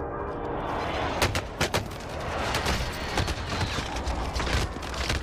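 Airstrike explosions and gunfire in the Call of Duty Warzone video game make a dense, loud roar of blasts with several sharp booming hits in quick succession, continuing without pause.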